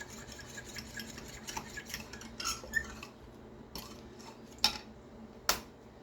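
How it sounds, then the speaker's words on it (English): A utensil stirs sugar into canola oil in a bowl, making soft scraping and rubbing strokes with a few sharper clinks against the side, quiet and close, with no speech. "So I'll start to dissolve that sugar."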